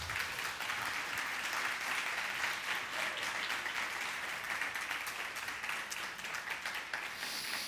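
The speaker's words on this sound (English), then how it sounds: "Round of applause, please." Steady audience applause at the close of a talk on mortality, continuous dense clapping from a crowd lasting the whole stretch without any speech.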